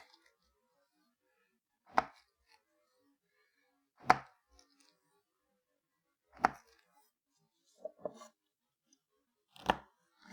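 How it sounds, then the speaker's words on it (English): A knife chops nopales cactus pads on a board in five sparse, crisp strikes spaced about two seconds apart, close and clear in a quiet room, with no talking. "we're going to be making Nopales with eggs, so you want to cut them up like this."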